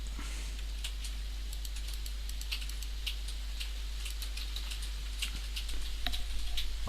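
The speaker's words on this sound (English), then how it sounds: "it's absolutely pouring down outside" Heavy rain pours down outdoors in a steady dense patter, with scattered sharp drips and ticks rising through the continuous hiss, which swells slightly near the end; no one speaks.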